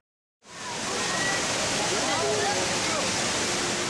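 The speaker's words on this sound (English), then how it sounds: "Rain Vortex is the world's largest and tallest indoor waterfall, standing at 40 meters high." The Rain Vortex, a 40-metre indoor waterfall at Singapore's Changi Airport, roars in after a second of silence, a loud, dense, continuous rush of falling water with faint echoing voices beneath.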